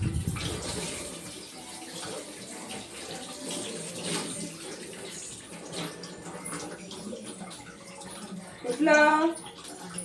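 Tap water runs steadily in a home kitchen while vegetables are washed before cutting, a soft continuous splash with a brief louder burst near the end.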